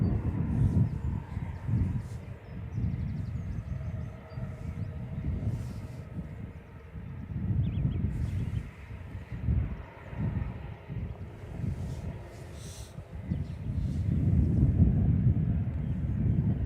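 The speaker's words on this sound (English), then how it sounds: "First departure of the day, Ryanair 3836 to Mahon on the Balearic island of Menorca" Ryanair Boeing 737-800 departing Manchester Airport, a broad low jet rumble that swells and fades in waves over a long stretch, fairly distant and mixed with wind buffeting, with no talk.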